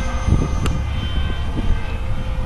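An F-117 RC brushless jet model in flight, a loud, continuous whirring drone held close and steady throughout, with no talk over it.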